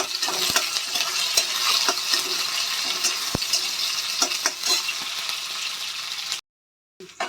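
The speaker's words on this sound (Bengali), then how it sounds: "এটা আমি একটু ভালো করে ভেজে নেব" Oil sizzles and crackles steadily in a pan as dried and green chilies fry, with occasional scraping stirs, then cuts to silence near the end.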